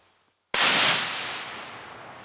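A single shotgun blast goes off after a brief silence: one sharp, very loud crack that leaves a long, fading reverberant tail over about two seconds.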